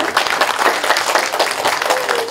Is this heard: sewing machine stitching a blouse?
no